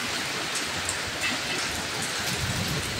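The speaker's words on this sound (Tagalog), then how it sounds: "May yelo pala." Dense, steady patter of small icy pellets striking surfaces all around, a continuous hiss with scattered sharper ticks and no voices.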